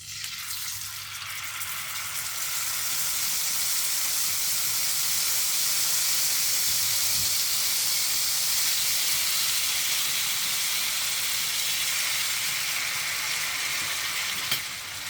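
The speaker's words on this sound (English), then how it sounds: "So we'll get this fish fried, but we're wanting a little bit of charring." Fish fries in a pan, a steady, fairly loud sizzling hiss that swells in the first seconds and then holds evenly, close by, with a faint tap near the end.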